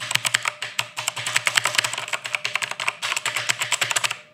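Typing on a Redragon K582 mechanical gaming keyboard: a steady run of sharp, close, clicky keystrokes, with a brief pause near the middle and no voices over it.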